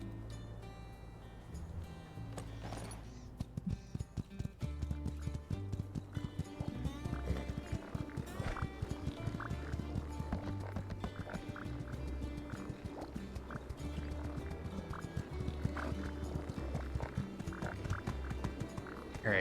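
A horse in the farming game My Time at Sandrock clip-clops in a steady rhythmic trot with an occasional whinny, set against soft game music and playing faintly throughout.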